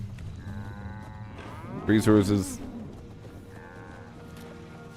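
Cattle lowing in the video game Fallout 76, with a single loud moo-like call near the middle under a faint background and brief speech at the start.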